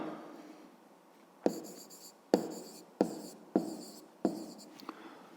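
A pen scratches on paper while an answer to a fifth-grade math exercise is written down, quiet close strokes in short bursts with small taps between them and no talking.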